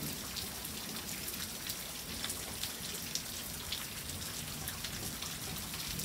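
Steady rain falls on a garden with potted plants, a dense, even patter of drops on surfaces that continues without a break.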